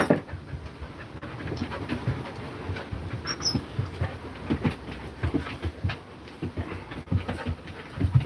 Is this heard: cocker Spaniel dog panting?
yes